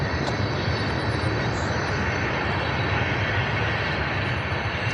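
A train passing close by near a fishing spot, a steady, loud broadband rumble and roar filling the whole clip without letup, with faint higher squeals riding on top.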